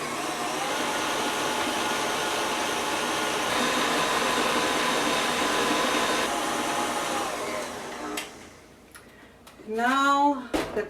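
An electric mixer whirs steadily and loudly through chocolate zucchini cake batter in a bowl for about eight seconds, then cuts off and a voice speaks briefly.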